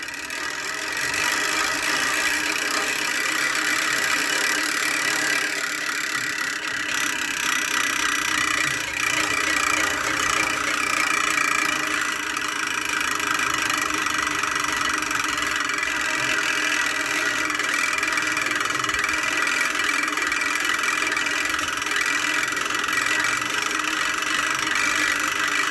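A homemade engine running at full throttle, a continuous loud mechanical drone with a steady high whine, held evenly for the whole stretch without talk.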